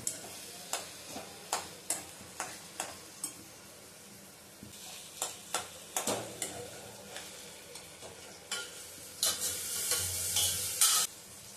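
Roasted eggplant being mashed and cooked in a kadhai: a run of regular scraping and tapping strokes against the pan, then a louder, continuous sizzle toward the end, close up and without talk.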